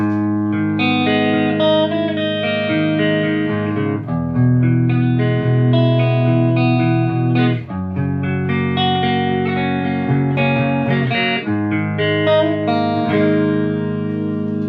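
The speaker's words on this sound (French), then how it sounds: "hop le petit clean, d'abord à sec sans la reverb" An electric guitar plays sustained clean chords and ringing notes through a Ravnika MLC Subzero 100 amplifier, dry and without reverb, for several seconds with brief pauses between phrases.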